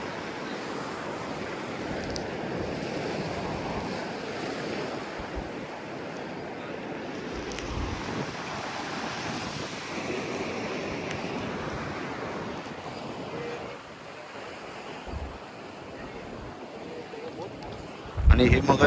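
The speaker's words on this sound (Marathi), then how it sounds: "हे बघा, अगदीच बाजूला पाणी येते." Sea waves washing up the shore at Harihareshwar at high tide, a steady broadband roar of surf with wind rumble on the microphone, fairly loud and continuous, ending in a sharp louder burst.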